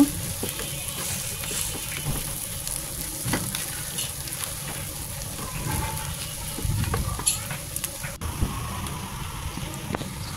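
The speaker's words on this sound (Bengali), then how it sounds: "দেওয়ার পরে এটা আমি আরেকটু ভালো করে মিশিয়ে নেব বা ভাজা করে নেব" Kori bhaja being mixed and fried in a pan, giving a steady close sizzle with crackling and the scrape of a spatula stirring through, continuous and fairly loud throughout.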